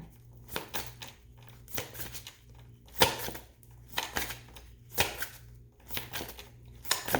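Tarot cards shuffled by hand in a quiet room, a steady series of soft riffling bursts and slaps repeating about every second, close and fairly faint.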